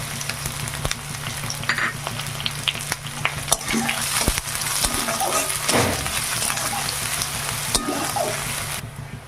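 Chopped onion, garlic and chili sizzle in a pan of hot oil, a dense continuous crackle broken by stirring scrapes and clinks, heard up close.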